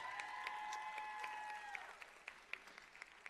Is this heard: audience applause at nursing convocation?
yes